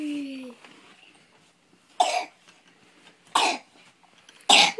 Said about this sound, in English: What are you coughing for?